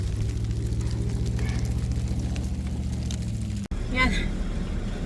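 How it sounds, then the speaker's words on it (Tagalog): A car engine idles and then is driven off in a snowy parking lot with about 12 inches of snow, a steady low hum that cuts out abruptly before a brief mechanical rise, with a person speaking nearby. "Alisin ko na yung sasakyan ko."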